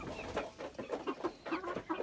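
Chickens, including Livenska chintz roosters, cluck in a quick series of short, soft calls, close by and fairly quiet, with no talking.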